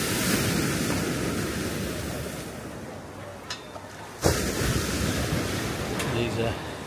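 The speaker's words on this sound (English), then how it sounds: "Lovely sound of the waves hitting the rocks." Sea waves breaking against rocks on Poniente Beach in Benidorm on a sunny day, a constant close roar of surf with wind buffeting the microphone and a sharp splash-like burst midway, no voices.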